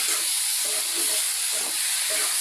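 Food frying in a pan gives a steady sizzling hiss, broken by regular soft scrapes as it is stirred, three or four strokes in quick succession.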